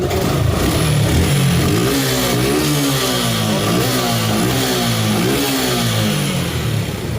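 A Suzuki Gixxer motorcycle engine, just back from a carburetor piston repair after the piston kept sticking, revs up and drops back several times in a loud, close, continuous roar with mechanical clatter underneath.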